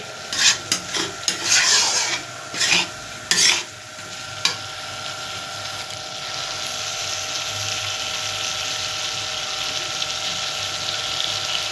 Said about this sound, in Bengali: পরিমাণ মতো জল একটু দিয়ে দেবো